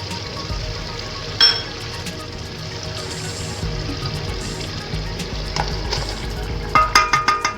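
Mutton tikka with masala frying in a pan, a steady close sizzle punctuated by spoon stirs and clinks, ending in a quick rhythmic series of scraping strokes.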